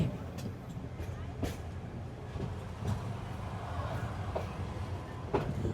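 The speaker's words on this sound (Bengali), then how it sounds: "দুলনচাপা এক্সপ্রেস ট্রেনটি কিছুক্ষণের মধ্যেই পার্বতীপুর রেলওয়ে জংশনে প্রবেশ করবে" The Dolonchapa Express rolls toward Parbatipur railway junction, with a steady low rumble and occasional faint rail clacks heard from aboard, while a voice speaks over it.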